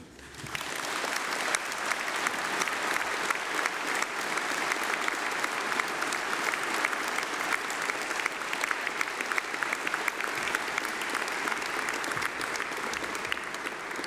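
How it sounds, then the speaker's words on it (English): An audience at a university graduation ceremony breaks into sustained, dense applause that begins abruptly and holds steady for about fourteen seconds, a broad hiss of many hands clapping at once. "Please join me in a massive round of applause for them."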